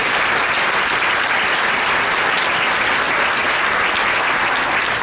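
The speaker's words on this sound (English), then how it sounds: "Join me in another round of applause if you would, please." An awards gala audience applauds nurses with dense, loud, sustained clapping that fills the whole stretch evenly, with no talk over it.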